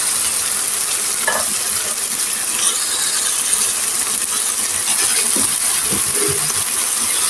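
Chicken sizzles and fries in a pan while being stirred, a steady hissing crackle with occasional clinks and scrapes of a utensil against the pan, no voices present.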